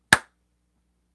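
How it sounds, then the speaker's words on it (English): A single sharp hand clap, close and loud, followed by silence. "And then I clap my hands, right?"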